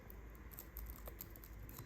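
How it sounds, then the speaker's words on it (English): Soft, irregular clicking of keys being pressed, a light patter of typing close by with no talking. "Typing with one hand here"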